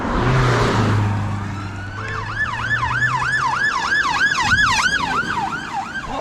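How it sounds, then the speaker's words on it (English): An ambulance siren wails nearby, its rising and falling tone repeating rapidly in a steady yelp pattern over road noise, loud and continuous for several seconds. "there's an ambulance."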